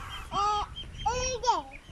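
Ducks by a reservoir shore give a few short, bright quacking calls close by, with a voice and light talk mixed in.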